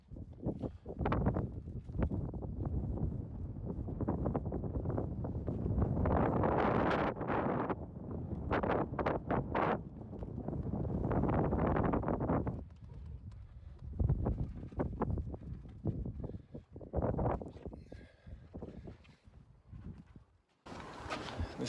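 Strong gusting wind buffets the microphone at an outdoor house-framing site with girder jacks, a loud continuous roar that rises and falls with faint rustling, and no speech.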